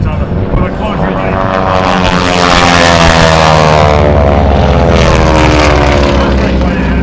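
At an airshow, two 6,000-pound propeller aerobatic planes roar through a half-Cuban turnaround, their engines a loud, sustained drone that climbs and falls in pitch as they sweep close by, with an announcer talking over it.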